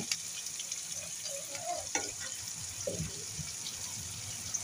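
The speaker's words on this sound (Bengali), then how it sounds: "পেঁয়াজগুলোকে হালকা একটু নেড়ে চেড়ে নেব, বাদামি কালার করব না" Onions being lightly stirred in a pan as they fry, giving a soft, steady sizzle with a few scraping clinks of the spoon against the pan, quiet and close with no talk.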